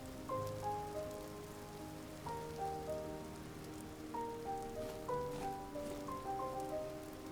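Steady rainfall in the Vintage Story game, a continuous hiss of drops on surfaces with soft tonal game music running throughout, no voices.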